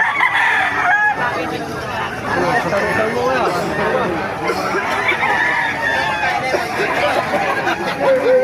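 Roosters crow over a busy din of clucking hens and people chattering at a crowded chicken market in Bocaue, Bulacan, Philippines, the whole scene loud and continuous.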